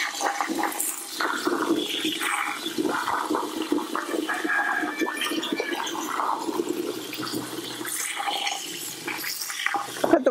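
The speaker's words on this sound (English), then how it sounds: "Put the water in slowly because it just takes a while to seep in" Water is poured slowly into a container outdoors, making a continuous splashing, gurgling flow at moderate loudness for the whole stretch.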